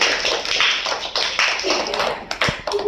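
A small group claps hands for a few seconds, uneven and somewhat sparse taps rather than a full ovation, with a little talk mixed in.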